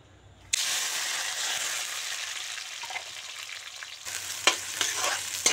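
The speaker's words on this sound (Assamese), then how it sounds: "এতিয়া পিঁয়াজখিনি প্ৰথমতে তেলত ঢালি দিওঁ," Chopped onions hit hot mustard oil with a sudden loud sizzle, then fry in a steady crackling hiss while being stirred, with a few sharper spatters near the end.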